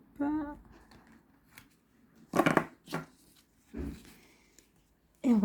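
A deck of cards being cut by hand, a few short papery slaps and shuffles spaced apart, with a voice speaking softly between them.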